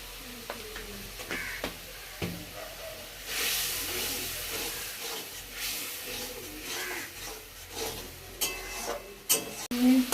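Spices fry in a pan with a soft continuous hiss and sizzle, broken by occasional scraping knocks of a spoon stirring, close and fairly quiet, with a few sharper clatters near the end.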